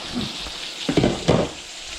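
A steak frying in a hot pan, sizzling close by with a few louder crackling bursts and a stirring or shifting sound partway through, no talking.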